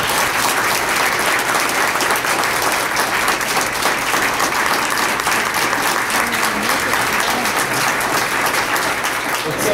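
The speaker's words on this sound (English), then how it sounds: "let's give Mr. Widstrand a loud round of applause" A sustained, loud round of applause from an audience at a medal of valor ceremony, dense continuous clapping filling the room steadily with no talking over it.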